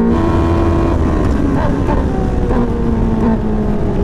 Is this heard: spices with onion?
no